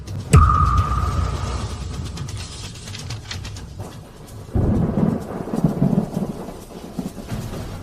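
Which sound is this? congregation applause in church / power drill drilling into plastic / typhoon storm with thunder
typhoon storm with thunder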